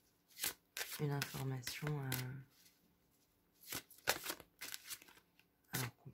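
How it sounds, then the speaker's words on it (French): A deck of tarot-style cards is riffled and shuffled in short crisp bursts, with quick snaps as a card is drawn. The sounds are close and fairly quiet, with a voice speaking French between them. "Je vous propose d'aller tirer peut-être une carte"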